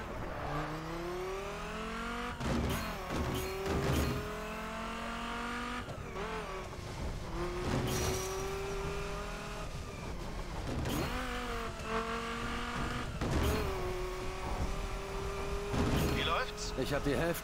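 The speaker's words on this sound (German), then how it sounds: "Da sind die Autos sowas von ungelenkt hier in dem Spiel" Cars in the video game The Crew roar and rev continuously, engine pitch repeatedly climbing and dropping through gear changes, with sharp bursts of impact or skidding scattered across, steady and fairly loud with no talk audible over it.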